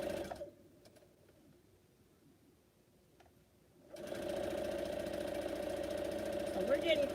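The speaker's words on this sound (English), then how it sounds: "I'll just keep sewing until I get them done" A sewing machine runs steadily as black quilt pieces are stitched, its motor hum starting abruptly after a few quiet seconds and then holding a loud, continuous buzz to the end.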